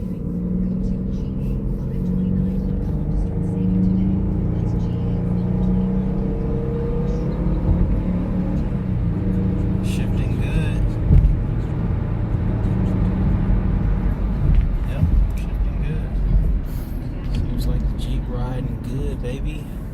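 Jeep bought at an insurance auto auction, driven on the road: a steady low engine drone and road rumble run throughout, with occasional thumps and rattles and a voice talking over it.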